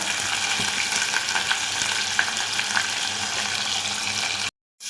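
Garlic and onions frying in a pan over a medium flame while being stirred, a steady loud sizzle with faint scraping throughout, cutting out abruptly near the end.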